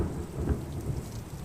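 Thunderstorm with steady rain falling and low rumbling thunder rolling through, a continuous mid-level wash of rainfall with deeper swells of thunder underneath, no voices.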